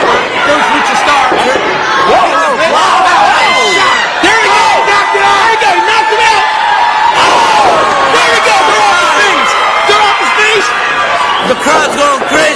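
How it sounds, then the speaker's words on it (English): An excited crowd at an EXW Xtreme Measures independent wrestling show roars, shrieks and cheers continuously, loud and dense, with whoops and kids shouting, and excited commentary running over the top. "The crowd's going crazy."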